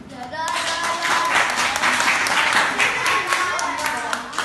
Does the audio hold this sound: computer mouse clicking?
no